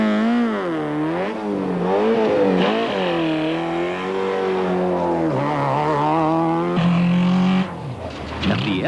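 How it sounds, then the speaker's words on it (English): A Nissan rally car engine at the end of a stage runs rough and uneven, its revs rising and dipping in wavering surges with a sharp drop-off near the end, loud and close. "At the end of the stage, the Nissan motor sounds decidedly offbeat."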